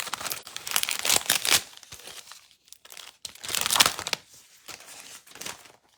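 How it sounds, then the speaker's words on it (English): Plastic wrapping on a packaged clay slab being ripped open up close, with two bursts of loud crinkling and tearing separated by quieter rustling. "Comes all wrapped up in plastic. Interesting feeling. Oh. All right, I'm just going to rip this."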